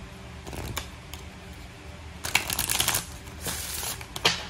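Soft papery shuffling and a few crisp snaps as archangel oracle cards are handled and one is slid from the deck, close up and fairly quiet.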